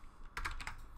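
Keystrokes on a computer keyboard typing product listing text, a quick cluster of several clicks close to the mic with a brief pause between bursts.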